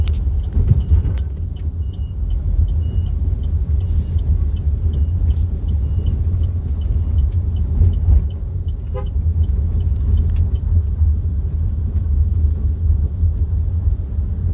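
Dense Vietnamese street traffic rumbles steadily nearby while car and motorbike horns beep in short, scattered toots, some close and some farther off.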